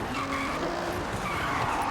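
Tires squeal in a continuous skid as a Nissan Drag GTR drifts in the Forza racing game. The loud, sustained screech runs over steady engine roar for the whole stretch.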